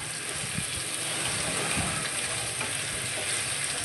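Pointed gourd pieces fry in hot oil in a pan, giving a steady, close sizzle with faint stirring scrapes and no voices.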